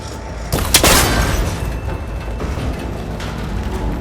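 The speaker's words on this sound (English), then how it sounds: "That connector's holding the cables together. It should break if I shoot it." A cable connector on an ancient tower being shot and breaking in Horizon Forbidden West, a sharp loud boom and crack near the start that fades into a rumbling, noisy wash.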